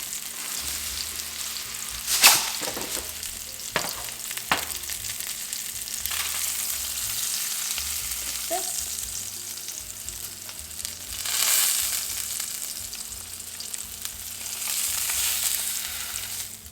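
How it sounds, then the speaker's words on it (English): Salmon fries in olive oil in a pan with a continuous close sizzle, broken by a few sharp pops and spatters. "so this is perfect for frying salmon"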